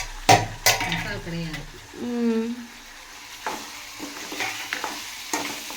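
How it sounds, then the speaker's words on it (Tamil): Mutton chukka is stirred and fried in a pan, giving a low sizzle with intermittent scraping and clinks of a spoon against metal, while a voice briefly speaks near the start. "நல்லா இதை வந்து கிண்டி வேக வச்சுக்கலாம்"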